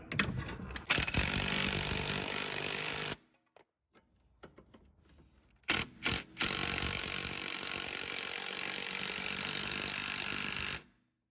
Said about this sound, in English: We can go ahead and tighten up this bolt and the bottom bolt that go to the lower control arm.